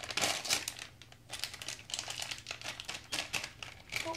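A blind bag wrapper holding a squishy toy brain crinkles and crackles as it is torn open by hand, in quick, uneven bursts of close, fairly loud rustling.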